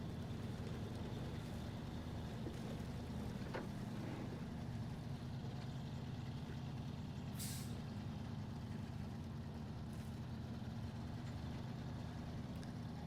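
Low diesel truck engine drone from a Fleet Star truck in the video game SnowRunner, crawling along a muddy mountain path; steady, loud rumble throughout with a brief hiss of air brakes partway.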